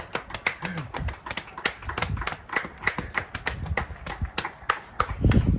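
A hand slapping a bare belly to imitate clapping, a quick uneven run of sharp fleshy smacks, close and fairly loud, with a brief vocal sound near the end.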